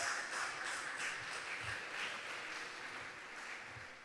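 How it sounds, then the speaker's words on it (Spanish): A church congregation applauds during a sermon, a faint, steady patter of many hands clapping that continues evenly for several seconds and fades slightly toward the end. "Dale un aplauso al Señor."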